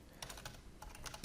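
Keys clatter on a computer keyboard in two quick bursts of close, crisp clicks with a short pause between, no voices.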